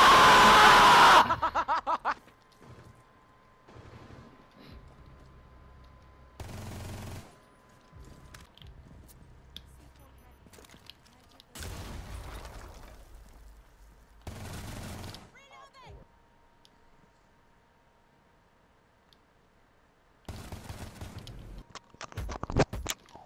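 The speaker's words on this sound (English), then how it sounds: "Are they really trying to shoot me right about now?" Gunfire in the tactical shooter Rainbow Six Siege, with heavy bursts at the start and repeated loud volleys later, separated by quieter stretches of game ambience.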